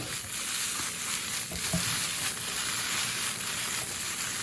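Tofu fries in a pan for pad thai, giving a soft, steady sizzle with faint crackles and a few light stirring clicks, quiet and close, with no voices.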